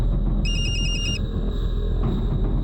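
A telephone rings during an attempted call, a short burst of rapid electronic trilling pulses over a loud, steady background hum, then cutting off abruptly.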